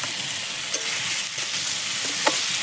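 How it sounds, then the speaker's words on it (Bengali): Fried potatoes tumble into sizzling masala with prawns in a pan for a fig-and-prawn curry, giving a steady close sizzle broken by a few sharp scrapes and clinks of stirring. "ভেজে রাখা আলুগুলো দিয়ে দিচ্ছি"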